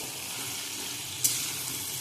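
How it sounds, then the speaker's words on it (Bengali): Potato pieces with turmeric and salt fry in a pan over a medium flame, giving a steady close sizzle with a brief clatter as they are stirred. "গ্যাসটাকে মিডিয়াম করে আলুগুলো একটুখানি লাল লাল করে ভাজতে দেবো"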